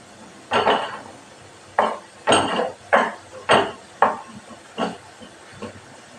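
A small spoon stirs curry (kuzhambu) in a pot in a home kitchen, making about eight close, distinct clinks and scrapes at an uneven pace.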